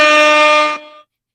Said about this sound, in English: I'm gonna use an air horn.